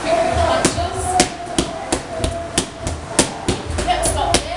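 Quick boxing punches strike pads in a rapid series of sharp slaps during a fitness boxing drill, about a dozen crisp hits close up over a steady background hum.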